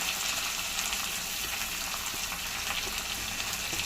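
Chopped onion fries in hot oil with curry leaves and chillies for kanda poha, giving a dense, even sizzle that hisses steadily and close without pause.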